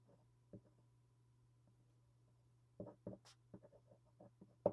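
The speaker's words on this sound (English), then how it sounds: "S's are hard on this pen paper combination." Pen scratching across paper, the ink nib sticking slightly on the page: faint, sparse scratchy strokes with a cluster of quick marks in the second half, over a steady low hum in a quiet room.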